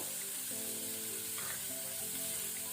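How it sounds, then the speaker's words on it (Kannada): Sliced onions sizzle steadily in a pan of hot oil as they cook toward golden brown for a jackfruit gravy, with a dense, continuous close hiss and occasional stirring scrapes. "ಈರುಳ್ಳಿ ಗೋಲ್ಡನ್ ಬ್ರೌನ್ ಆಗೋ ತನಕ ನಾವು ಫ್ರೈ ಮಾಡ್ಕೊಳ್ಬೇಕು"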